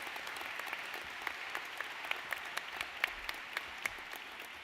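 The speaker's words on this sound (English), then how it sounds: "I think we should continue the round of applause for the inductees tonight" Audience applause at the Canada's Aviation Hall of Fame induction ceremony welcoming astronaut inductee Dave Williams, a steady, fairly soft wash of clapping with a few sharper individual claps standing out, no voices.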